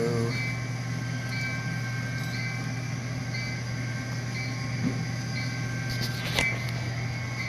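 A model train runs on a long layout, giving a steady mechanical hum and rolling rumble throughout with faint clicks and a brief clatter near the end.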